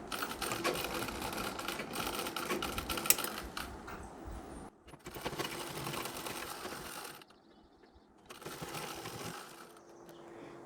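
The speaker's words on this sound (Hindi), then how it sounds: "अब ये वाला भाग यहाँ से यहाँ तक हमें सिलाई लगा लेनी है।" A sewing machine stitches the lining section of a Marathi-style saree in three sustained whirring runs, broken by a brief stop and then a longer pause, close and moderately loud with no talking.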